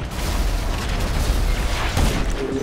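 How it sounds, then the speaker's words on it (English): A video game rocket blast that misses its target: a loud, dense, rumbling burst with a heavier boom near the end, heard alone without talk. "Rocket miss."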